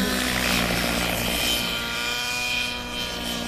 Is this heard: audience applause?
no